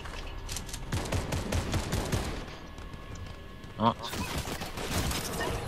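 Assault rifle fire in a battle royale video game during a boss fight, heard as dense rapid bursts of shots layered in a busy mix, with players talking over the action and a sharp louder crack near the end.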